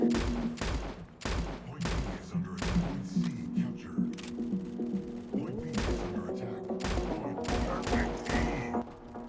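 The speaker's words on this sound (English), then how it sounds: "the gun have medium damage and very rapid firing" Rapid sniper rifle fire in the Guns of Boom shooter game, with a quick run of sharp, loud shots spaced across the stretch over layered game sounds and a steady tonal music bed.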